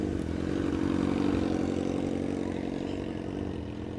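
A motorcycle passes at a car meet with a steady, loud engine drone that swells and then slowly fades as it rolls by.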